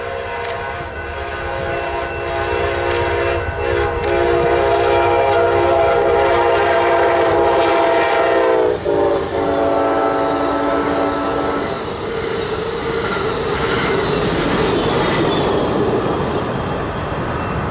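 Amtrak Zephyr passenger train racing through Mendota in northern Illinois without stopping, its multi-tone horn blaring loud and close for several seconds over roaring wheels and engine, then the horn pitch dropping as the train passes.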